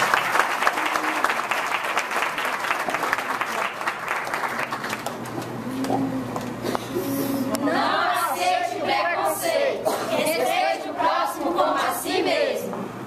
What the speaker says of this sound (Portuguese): Para os aplausos de todos